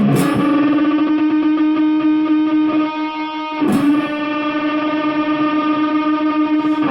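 A heavily distorted electric guitar through a bass wah holds sustained, buzzing notes with a wah-like sweep, restruck after a short dip, loud and alone.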